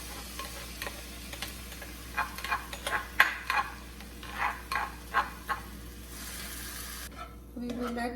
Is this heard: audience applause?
no